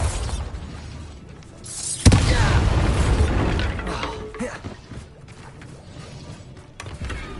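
Bombarda blasting spell from Hogwarts Legacy, a sudden loud explosive burst followed by a rumbling, crackling decay that slowly fades over several seconds.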